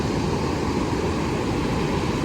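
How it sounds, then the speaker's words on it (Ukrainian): Heavy sea surf on a beach, a steady loud roar of big waves breaking close by, filling the whole stretch without pause and with no talk. "Дуже сильна хвиля"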